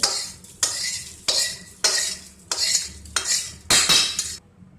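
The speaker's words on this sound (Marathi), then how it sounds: "ही मिरची भाजत चाललेली आहे तर आपण ह्या मोठे पातीले घेतलेले आहे त्यामध्ये काढून घेऊ" Roasted chillies for a Maharashtrian black spice masala are scooped from a pan into a large pot in about seven rhythmic, close scraping strokes with a faint sizzle underneath.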